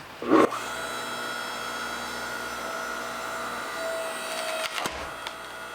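A BILT HARD 6.5-ton electric log splitter works through an 11-inch log with a steady motor hum and whine. A wooden crack and creak come near the start, with more cracking and a clunk toward the end.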